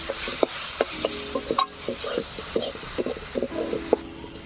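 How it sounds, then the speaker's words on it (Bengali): Leafy greens stir-fried with cumin and chili powder, a spatula scraping and stirring in a steady run of close clicks and scrapes over a light sizzle, with no talking. "এবারে শাকটাকে ভালো করে ভেজে নেব।"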